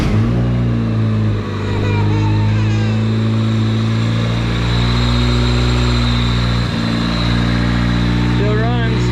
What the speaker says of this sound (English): here's the first startup with the wire tuck done, valve lash